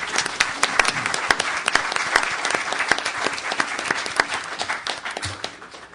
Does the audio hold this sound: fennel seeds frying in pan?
no